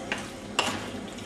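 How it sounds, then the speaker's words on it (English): Curry with spices being stirred in a pot, a short low sizzle with two scraping strokes of a utensil, the second louder, heard up close and alone. "So just give that a stir. You want it to mix in with all the spices."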